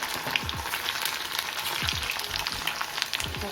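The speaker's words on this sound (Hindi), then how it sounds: "तो ये इस तरीके से धो धा के हमने ये डाल दिए तेल में।" Bitter gourd pieces fry in hot oil with a steady, dense sizzling crackle, close and fairly loud, with low bubbling pops recurring throughout and no talk.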